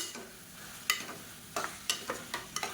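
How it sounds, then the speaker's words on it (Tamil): Thinly sliced radish sautés in hot oil for a Tamil kuzhambu. Brief scraping stirs land in quick, irregular bursts over a faint, low sizzle. "இப்போ இதே எண்ணெயில் சேர்த்து வதக்கி விட்டுக்கலாம்"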